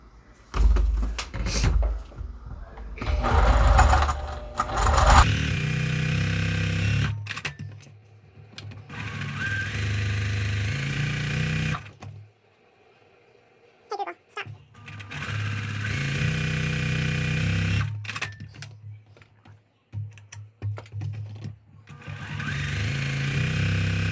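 A sewing machine runs in several bursts as two seam lines are stitched across quilt fabric pieces placed right sides together, its rapid mechanical hum starting and stopping with short pauses and clunks in between.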